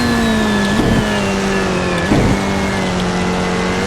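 A Roblox trackday car lapping Hockenheim in a racing game, its engine droning loud and steady with rising pitch, dipping briefly on two shifts or lifts before climbing again, no voices over it.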